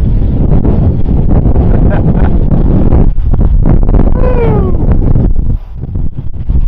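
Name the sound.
strong wind blowing against the microphone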